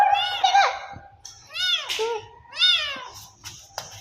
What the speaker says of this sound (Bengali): এখানে বিড়াল আছে?